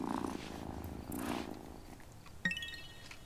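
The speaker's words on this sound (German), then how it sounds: "Oh, what a good purr." A cat purrs in the video game Wylde Flowers, a soft, steady rumble at low volume that fades out, followed by a brief chiming game tone.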